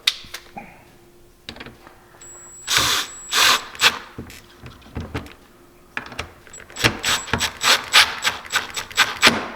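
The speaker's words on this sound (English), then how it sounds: "So let's go ahead and tighten that up" A power drill tightens a Bent Metal EZ Hold door strut on a Can Am X3 Maverick. It fires in a string of short, close whirring bursts with brief pauses and faint clinks between them.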